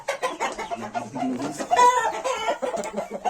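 Indian-breed game roosters kept as breeding stock at a farm, clucking and calling repeatedly at close range with a brief louder crow-like note midway, other fowl sounds mixed in.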